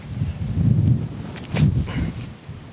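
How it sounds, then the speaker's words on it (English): Wind gusting outdoors on a disc golf course, a low rumbling buffet that swells and fades in two surges, loud and close with some rustling on top. "Wow, that wind just picked up."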